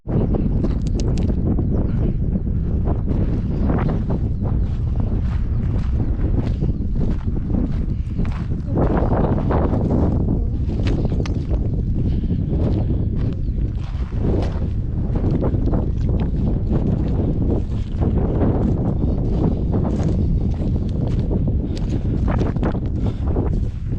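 Steady wind buffets the microphone on an exposed mountain hike toward the summit of Mount Fosthall in the Okanagan, a constant loud roar with gusty surges and occasional rustling, no talking.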